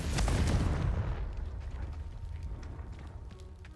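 A Confringo blasting spell explodes in the video game Hogwarts Legacy. One heavy, booming blast hits at once and then fades into a long rumbling tail with faint crackling debris.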